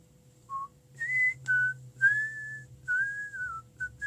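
A person whistles a melodic tune in short sustained phrases with slight pitch bends, clear and close over a faint low hum, with no talking.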